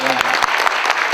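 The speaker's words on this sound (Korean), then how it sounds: "박수가 좀 그러네, 그죠? 네. 한번 칠까요?" A brief burst of audience applause with dense clapping, close and lively, while a voice is heard over it.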